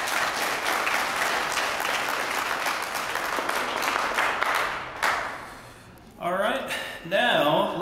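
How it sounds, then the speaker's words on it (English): A crowd claps steadily for several seconds at a speech contest, a dense wash of applause that fades out before a voice begins speaking near the end. "let's give our sponsors a round of applause"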